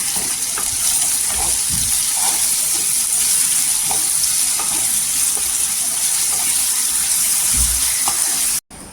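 Chopped tomato and onion with salt sauté in hot oil in a pan for a soybean pulao, giving a steady close sizzle with a few soft stirring knocks and no talking.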